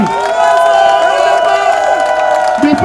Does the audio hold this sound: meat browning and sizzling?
no